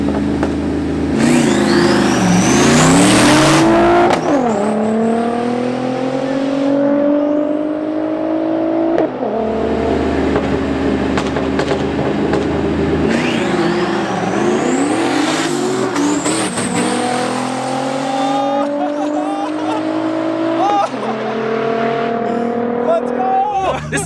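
A 650whp Volvo sleeper street races a fully built Audi in Mexico, engines roaring through repeated rising revs and gear shifts, loud and close, with people talking and shouting over it.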